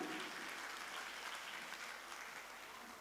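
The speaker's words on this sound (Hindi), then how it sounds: "एक बार जोरदार ताली इनके लिए भी होना चाहिए सर जी।" An audience at an RCM business gathering claps steadily in a dense, even wash of applause that holds for several seconds and tapers slightly toward the end, heard from a distance.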